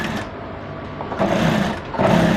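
A sewing machine stitches a velvet-covered strip onto a blouse, running in a steady close whir with short pauses and a couple of restarts.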